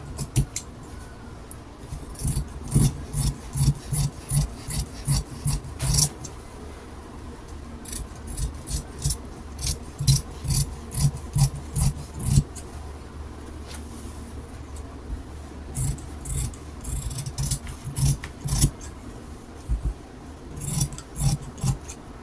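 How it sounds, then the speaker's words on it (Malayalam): Scissors cut silk fabric for a skirt, the blades snipping in quick bursts of crisp clicks separated by short pauses, close and fairly quiet with no talking. "ഈ ഒരു അളവിൽ നമുക്കതൊന്ന് കട്ട് ചെയ്തെടുക്കാം"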